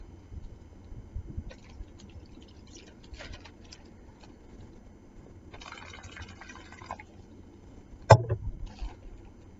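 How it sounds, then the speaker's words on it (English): Water is poured into a plastic bag in a short burst of liquid trickle, followed by crinkling and a louder handling thump of the bag, all close and with no talk. "you're going to add about 1/4 of a cup of water to the bag"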